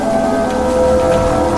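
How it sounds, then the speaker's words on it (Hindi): Rain falls steadily in the Evil Nun mobile horror game, a dense, even patter heard loud and close throughout, with a faint constant tonal hum from the game underneath. "अपना पॉटी बॉय शॉन बारिश में भीगते हुए इविल विलन से अपनी जान बचाकर जंगल से बाहर जाने की फिराक में"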